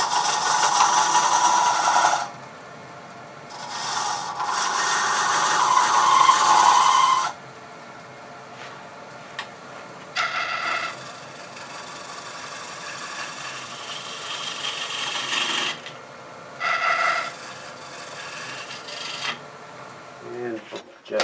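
A turning tool cuts a Bradford pear wood bowl spinning on a lathe, giving loud broadband rasping bursts of several seconds each, separated by quieter gaps where the lathe hums on its own.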